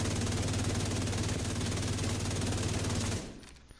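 Sustained automatic gunfire in The Division 2, a loud, rapid, even rattle of shots that runs for about three seconds and then cuts off abruptly to near silence.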